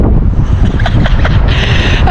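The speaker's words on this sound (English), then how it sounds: "as you can see, it is rather windy now" Strong gusts buffet the microphone on a very windy day out walking in Blackpool, a loud, continuous low roar with rushing, flapping bursts and no talking.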